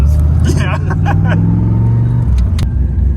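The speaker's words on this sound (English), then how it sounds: "Just a loud car outside." A loud V8-swapped Pontiac Fiero with a Holley Sniper fuel injection setup rumbles close by as it arrives, its deep steady engine drone running throughout while people talk over it.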